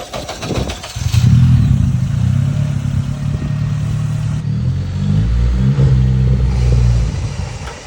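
Fully built Honda Civic engine cranks and catches, then idles loudly with a steady low rumble and rises in revs near the end, close by and dominant throughout.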